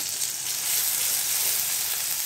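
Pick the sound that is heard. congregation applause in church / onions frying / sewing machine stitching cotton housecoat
onions frying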